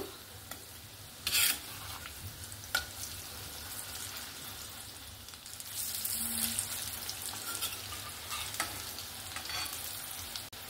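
Lentil fritters (bora) fry in oil in a pan over a low-to-medium gas flame, a soft continuous sizzle with occasional clinks and stirring scrapes, fairly faint and close, with no voices.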